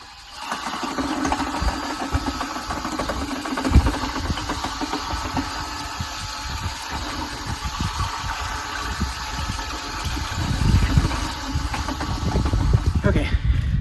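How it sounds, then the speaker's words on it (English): A power mixer churns acetone-based concrete floor sealer in a bucket, a steady motor whir with rattling agitation that grows rougher and louder toward the end. "Then I'm going to take our mixer and mix this for a couple minutes."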